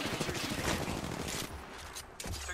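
Video game gunfire, a dense, fairly quiet stream of rapid shots running continuously for a couple of seconds, with sound effects layered in.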